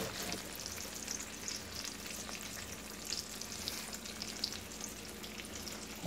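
Chicken breasts frying slowly with fat rendering out, a soft, even crackling sizzle with faint pops, continuous and fairly quiet.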